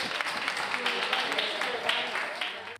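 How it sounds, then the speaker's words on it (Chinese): Medical staff at a field hospital in Madrid applaud as recovered COVID-19 patients leave, producing a short, steady burst of many hands clapping that fades out at the end. A voice speaks over it. "医护人员以掌声送行。"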